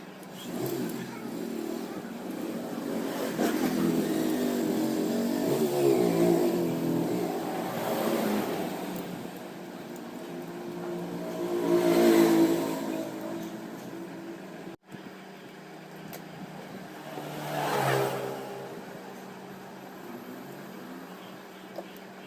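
Mixer grinder motor running freely just after a bush replacement, a steady whirring drone that rises and falls in waves, with brief breaks, close and fairly loud without talk.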